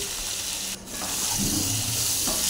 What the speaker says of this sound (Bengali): আলুগুলো একটু লাল লাল করে ভেজে নিতে হবে